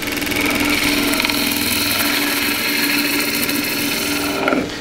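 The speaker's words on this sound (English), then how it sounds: "if I let the point of the cut come up to the edge, it's going to grab back" A skew chisel on a spinning wood lathe cutting into the turning wood, a continuous loud rough whir and scrape that grabs and ends in a sudden harsh catch near the end.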